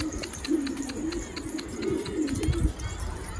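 A pigeon coos close by in repeated low, throaty rolling calls, several in a row over a steady background with faint other birds.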